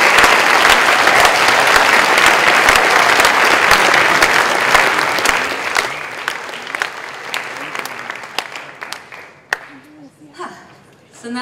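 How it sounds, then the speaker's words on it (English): An audience at the Woodstock Film Festival awards ceremony gives loud, dense applause that thins out after about six seconds into scattered claps. A voice begins speaking near the end. "And now you can applaud."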